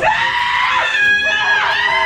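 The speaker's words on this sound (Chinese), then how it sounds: "还是我们现在就尖叫，吓死虫" A group of people scream together, loud and sustained for a couple of seconds, with many shrill voices overlapping in one continuous chorus.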